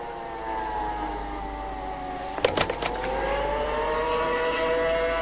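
Alarm siren sounding over San Francisco, a steady harmonic wail holding through the whole stretch over a low rumble, with a brief burst of sharp clattering noise near the middle.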